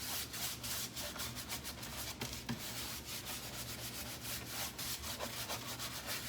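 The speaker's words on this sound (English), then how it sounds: "Just scrub it, basically." A shabby chic wooden picture being scrubbed by hand, quick repeated rubbing strokes in a steady rhythm, close and fairly quiet, with no talking.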